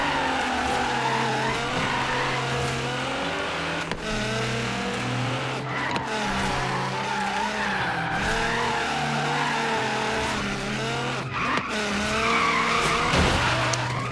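In the racing game Forza Horizon 3, a classic car slides under the e-brake, with repeated loud tire squeals and skids over a droning engine that rises and falls throughout.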